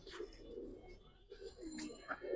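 Giribaz pigeons coo softly in a low, murmuring pattern, with faint higher chirps and background voices now and then.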